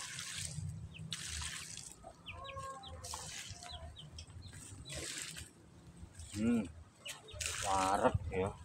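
Water splashes and trickles as eggplant plants are watered in a garden, with hens clucking nearby and a person talking.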